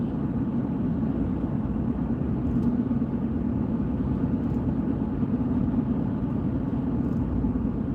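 A car on the morning ride to work, its steady low engine rumble and road noise droning evenly from inside the cabin, with no talking.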